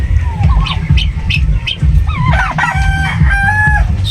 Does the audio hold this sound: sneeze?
no